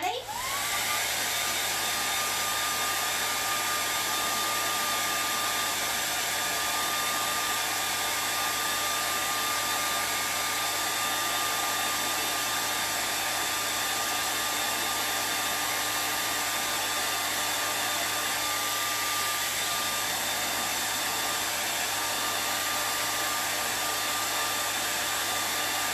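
A hair dryer blows continuously to dry paint, starting abruptly and holding a loud, steady whooshing roar with a thin whine throughout, close by and uninterrupted.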